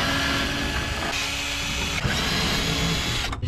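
Mechanical whirring and ratcheting of a Torx driver backing out the screws holding a 2021 truck taillight at the rear, a steady close buzz running throughout with a brief pause near the middle.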